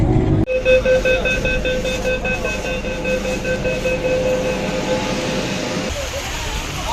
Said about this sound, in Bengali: এখন প্রবেশ করতে চলেছে হুগলি নদীর তলদেশে মেট্রো রেল